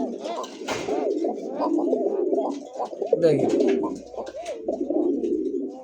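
A pair of fancy pigeons coo steadily and close up, overlapping rolling coos filling the clip, with a brief spoken word near the start and a short flutter or handling noise partway through.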